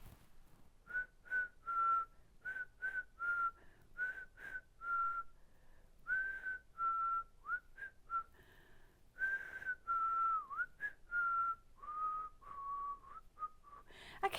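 A person whistles a halting melody in short, wavering notes with brief gaps between them, clear and fairly close, with no talking.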